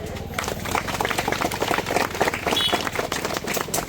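A crowd claps together in thanks to the Sai Ram palkhi group at a Sai Baba procession welcome, a dense steady patter of applause close by with no talking.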